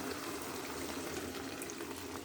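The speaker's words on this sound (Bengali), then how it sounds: "আর একটু পানি দিব" Water is poured into a pan of dried fish curry, a faint, steady splashing wash lasting the whole short stretch, with no voices.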